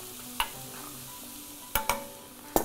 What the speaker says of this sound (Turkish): Şöyle bir karıştırayım